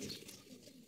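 Young racing pigeons give a short, soft coo at close range, faint and low under a light airy hiss.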